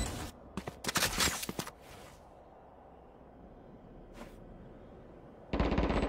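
Gunfire in a video game: rapid bursts of automatic shots crackle loudly in the first two seconds, followed by a single brief shot around the middle and another loud burst at the end, with a quiet background in between.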